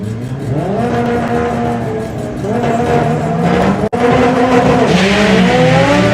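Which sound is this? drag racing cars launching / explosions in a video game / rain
drag racing cars launching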